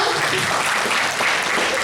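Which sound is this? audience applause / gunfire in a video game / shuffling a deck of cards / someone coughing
audience applause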